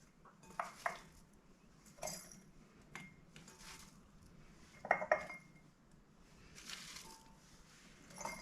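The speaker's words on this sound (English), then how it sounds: "try and tightly pack them as much as possible into the jars" Pickled red onions are tightly packed into glass jars, with soft clinks of glass and cutlery, squishy handling and a few sharper taps scattered irregularly and close by in a quiet kitchen.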